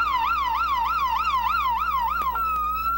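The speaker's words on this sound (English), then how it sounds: "the siren's going" An ambulance siren wails loudly and close, cycling through a rapid rising-and-falling yelp for over two seconds before switching to a steady held tone.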